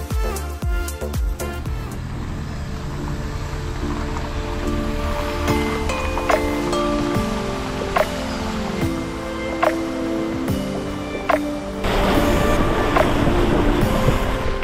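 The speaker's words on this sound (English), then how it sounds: "That is quite a river we have to cross." A rushing river in the Costa Rican jungle roars steadily with broad churning water noise, close and continuous, with no voices over it.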